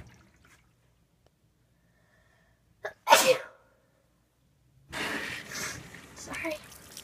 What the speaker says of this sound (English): Sorry, I'm about to sneeze.